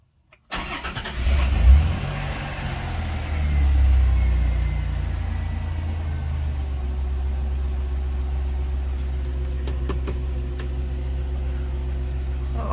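A 1990 Dodge Grand Caravan engine turns over and settles into a steady drone as the van is driven a lap, a close, continuous cabin-heard engine hum with a brief swell early on.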